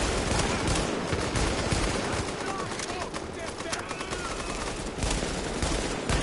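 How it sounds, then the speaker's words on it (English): Rapid automatic gunfire crackles continuously through a firefight in the video game The Division, dense and loud throughout, with players talking over the shooting. "I love how nobody's shooting the guy who's shooting at me"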